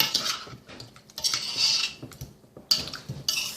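Utensils clink and scrape against a bowl as turkey pieces are tossed with a spice blend, in intermittent bursts of close metallic scraping and clatter with short pauses between.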